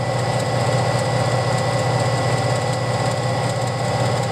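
An electric motor, fed through a variac, drives a magnetic heater during a stress test at about 500 watts. It gives a loud, steady hum and whine that stays constant and runs alone.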